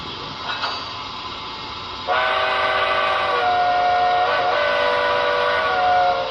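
A brass model New Haven I-4 steam locomotive chuffs softly, then a loud, sustained whistle sounds for several seconds, close by and steady with slight pitch shifts.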